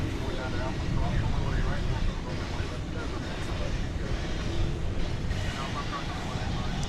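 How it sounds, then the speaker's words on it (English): A Qantas Boeing 787-9 on daily flight 8 to Sydney at Dallas/Fort Worth Airport at night gives off a steady, unbroken jet roar that fills the whole stretch at constant loudness. "this is Qantas flight, is it 8? I believe it's flight 8, going back to Sydney"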